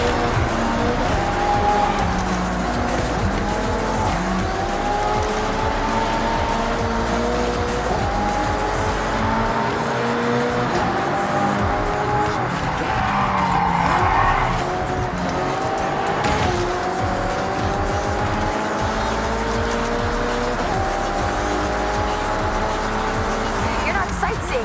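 Race cars in a video game, engines droning steadily with repeated tire squeals and skids through corners, loud and continuous, with voices talking over the racing.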